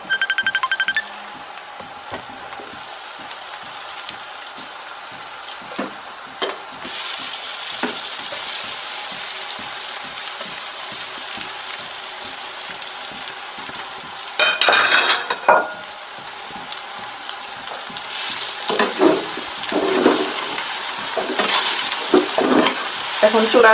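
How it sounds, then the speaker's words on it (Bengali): Olives sizzle in hot oil in a pan for a pickle while a spoon stirs them, giving a steady close frying hiss with scraping and clinks of metal on the pan that grow busier toward the end. "এখন আমি জলপাইগুলো দিয়ে দিচ্ছি।"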